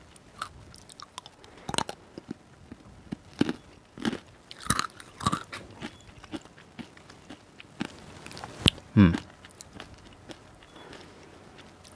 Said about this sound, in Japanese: はい、それではちょっと食べてみます。